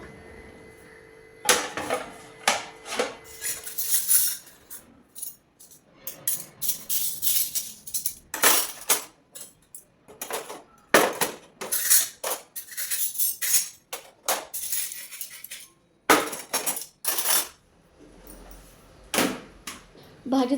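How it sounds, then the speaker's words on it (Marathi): Washed dishes from the night before being put away in a home kitchen: irregular clinks and knocks of pots, plates and utensils, sometimes in quick bursts with short pauses, close by and fairly loud. "रात्रीची भांडी वगैरे जी घासली होती"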